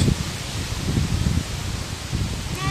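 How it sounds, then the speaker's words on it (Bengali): Strong wind blowing outdoors ahead of an approaching cyclone, with light drizzle falling, a steady broadband rushing roar with low gusty buffeting against the microphone, continuous and fairly loud throughout. "আজকে অনেক বাতাস বইছে কি পরিমাণ বাতাস"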